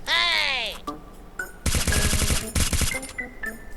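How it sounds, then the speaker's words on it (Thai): Bizon SMG gunfire in a video game, heard as dense rapid bursts of automatic shots in two close, loud volleys after a brief tonal sweep, with sparse clicks and faint effects between. "ปืนนี้มันยิงแรงมากนะ แรงสุดในตระกูล SMG เ ลยนะครับ"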